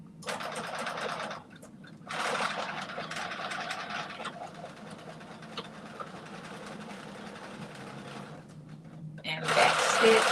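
A sewing machine runs in steady bursts of rapid mechanical stitching, stopping and starting as it reverses to back stitch, with brief pauses between runs and a louder burst at the end.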